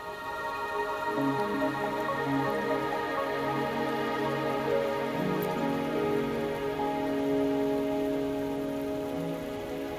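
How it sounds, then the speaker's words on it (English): Steady rain falls on surfaces in the video game Wuthering Waves, a dense, even patter with soft tonal ambience underneath that holds at a constant level throughout, with no speech. "Are you trapped here by the rain?"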